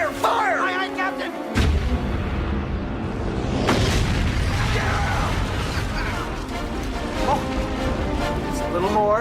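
Ship cannons fire in a seafaring adventure audio drama, heavy booming blasts and crashing impacts over a dense, continuous battle soundscape, with voices shouting through the scene.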